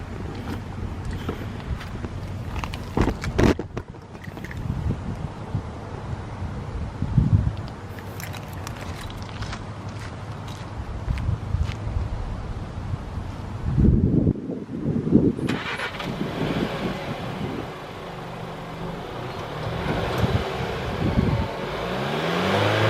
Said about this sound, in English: I'm gonna get y'all an exhaust note